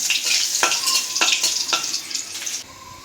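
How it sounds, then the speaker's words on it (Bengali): Dried red chillies frying in a hot pan, a steady close sizzle broken by a few sharp crackles and scraping stirs, with no voices over it. "শুকনো মরিচটা আগে একটু ভাজা নেই"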